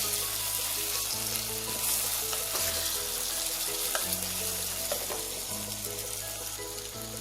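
Ground masala paste sizzles and fries in a hot pan with tomato for chicken varattiyathu, a dense steady crackling hiss close by, alone.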